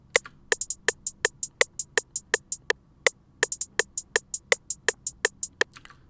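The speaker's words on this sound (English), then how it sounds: "I use a simple hat. So here's what this sounds like." A simple programmed hi-hat pattern in FL Studio plays alone, with crisp, evenly spaced ticks and a few quick double hits in a steady loop at moderate level. The drums are in a wavy trap beat.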